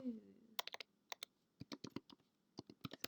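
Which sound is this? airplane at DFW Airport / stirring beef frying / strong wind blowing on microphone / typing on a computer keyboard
typing on a computer keyboard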